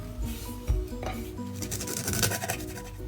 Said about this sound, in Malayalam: ആദ്യം നമുക്ക് പഴത്തിൻ്റെ രണ്ടറ്റം ഒന്ന് കട്ട് ചെയ്ത് മാറ്റാം.